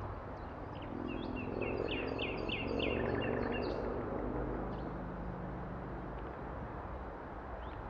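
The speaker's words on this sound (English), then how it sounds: "I hope you hear very nice birds singing" Birdsong in a wild forest between two towns near Saint-Médard-en-Jalles, Gironde: several birds sing high, rapid chirping phrases at a moderate distance over a steady low rumble of distant traffic.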